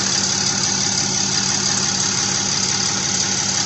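A loud, steady Ram 6.7L diesel pickup engine idles close by, a constant rumbling drone with no change in pace and no voices.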